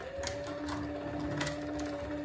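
A cheap shoe patcher sewing machine with a modified servo motor runs wide open while stitching veg tan leather, giving a steady mechanical hum with a high whine and rapid, slightly irregular clatter from the needle.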